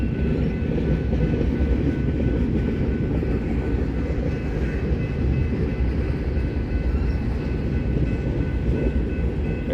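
Union Pacific and BNSF freight trains roll past, a loud unbroken rumble of railcars with a faint rhythmic clatter, close by and steady throughout with no voices.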